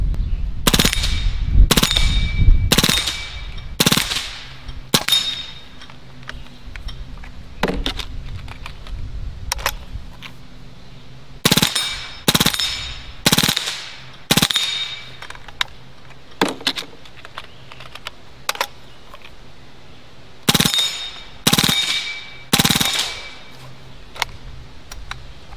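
A Hatsan Blitz .30 caliber air rifle fires full-auto bursts of sharp, rapid cracks, several shots in each, with quiet gaps between bursts and no talk.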